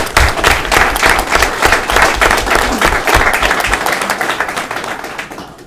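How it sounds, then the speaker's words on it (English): An audience at a union general membership meeting breaks into sustained applause, dense clapping that is loud and close at first and then slowly tapers off. "I really want to give them a round of applause for everything that they did."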